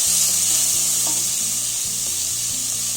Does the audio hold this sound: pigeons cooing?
no